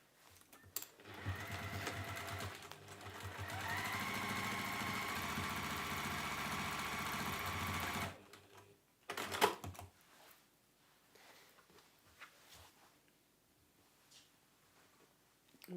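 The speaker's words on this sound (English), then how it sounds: "we're going to sew along that baseline just 1/4 of an inch" A sewing machine stitches a quarter-inch seam along fabric for a book sleeve, whirring steadily and close for several seconds, then stopping, followed by a few faint handling sounds and near silence.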